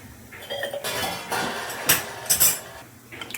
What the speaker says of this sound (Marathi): आपण झाकण काढून घ्यायचं आहे.